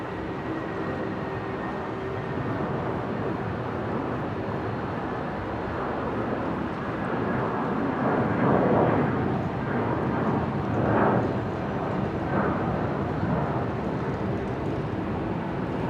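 A Jetstar airliner starting its takeoff roll at Brisbane airport, a broad steady engine roar heard from a distance that swells slightly midway.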